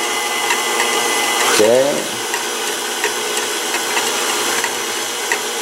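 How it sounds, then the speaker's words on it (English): A KitchenAid stand mixer whipping cream, a steady whirring motor drone running continuously, with a brief voice and a short swooping tone early on. "pour our whipping cream into the mixer and get this going until it becomes stiff peaks"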